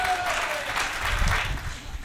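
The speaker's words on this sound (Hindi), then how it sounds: "ताली बजानी पड़ेगी।" Audience clapping at a comic poetry recital, a short burst of applause from a crowd, fairly faint, with a voice briefly over it at the start.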